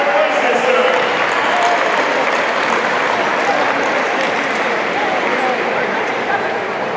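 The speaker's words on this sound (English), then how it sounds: "a big round of applause for the Clem community" A large crowd applauds loudly and steadily at a freshman orientation closing ceremony as a community is called up in third place, with cheering voices mixed into the dense clapping.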